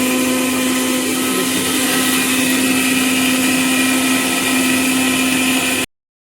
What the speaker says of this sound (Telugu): మిక్సీ గిన్నెలో వేసుకొని గ్రైండ్ చేసుకోవాలి.